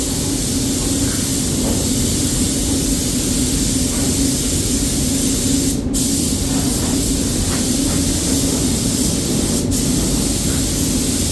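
Epoxy primer hisses from a spray gun onto a car body in a workshop, a loud continuous spray lasting the whole stretch with a couple of brief sharp bursts, no talking.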